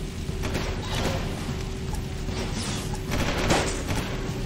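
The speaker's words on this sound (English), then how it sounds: "Can you stop shooting?" Dense, continuous gunfire in the Jak II video game, with rapid shots blurring together into a steady barrage across the whole stretch and a slightly louder burst near the end.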